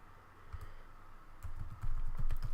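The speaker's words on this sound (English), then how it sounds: "I'll need to type in some secure password." Fingers typing a password on a computer keyboard, a quick run of soft key clicks that grows denser and louder toward the end, close and alone.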